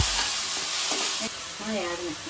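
Onions sizzle steadily in a hot pan with garam masala stirred in, a continuous close frying hiss with brief stirring scrapes and a faint voice near the end.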